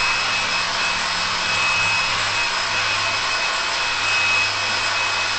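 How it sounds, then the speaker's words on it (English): A hair dryer runs continuously with a steady, close, airy whir and a faint high whine, unchanging throughout. "I don't know if it's my blow dryer"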